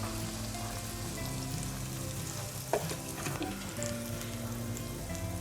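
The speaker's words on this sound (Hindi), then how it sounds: "डीप फ्राई करना है इन्हें बिल्कुल हल्की आंच पे।" Chicken wings deep fry in oil over a low flame, a continuous close bubbling sizzle with light crackles throughout and a brief knock near the middle.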